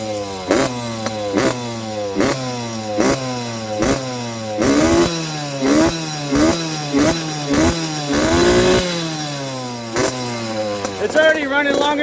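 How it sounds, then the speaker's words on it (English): Small SYX Moto 50cc motorcycle engine revving in repeated short bursts, each rising blip falling back toward idle in a rapid, rhythmic pattern, loud and close. "It's already running longer than it did last time. Might have to idle it up a little bit."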